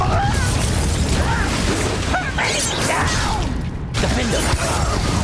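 Crackling bursts and rumbling blasts from the Confringo fire spell in Hogwarts Legacy, a loud, dense and continuous battle din with voices over it.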